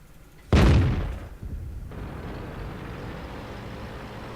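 A tank gun fires once in a World of Tanks match, a single loud, close blast that decays into a long rumbling tail under low engine noise.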